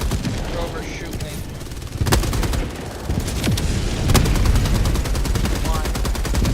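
Video game gunfire in Helldivers 2, with rapid automatic bursts and a few sharper heavy shots stacked in a dense, loud barrage, while voices speak over the shooting.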